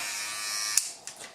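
Turobot electric pet clipper for dogs and cats, set to 3 mm, buzzing steadily as it cuts nail brush bristles, then cutting out abruptly and followed by faint handling noises.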